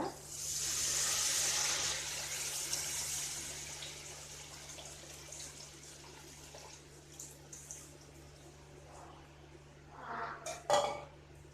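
Tamarind water pours into a pan over a low flame while shallot vatha kuzhambu is cooked, a soft splashing gush that is strongest at first, then fades to faint trickles and small clinks, with no talking.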